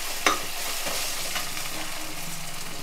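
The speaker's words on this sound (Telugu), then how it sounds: "ఈ అల్లం వెల్లుల్లిపాయ పేస్ట్ వేగాలి కదా." Ginger garlic paste with turmeric frying in a pan, a steady close sizzle with a sharp crackle near the start and faint stirring scrapes throughout, no voices.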